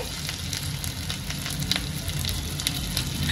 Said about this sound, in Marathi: तडक्यामध्ये मी राई घालून घेते, जिरं घालून घेते, अद्रक लसूण जे आपण जाडसर असं वाटण करून घेतलेलं ते घालून घेते